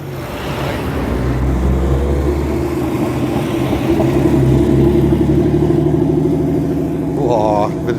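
Engines of an E36 BMW and a TVR Tuscan with its Speed 6 engine as classic 80s and 90s cars drive in at a car show, a steady close rumble with rising revs near the end and voices over it.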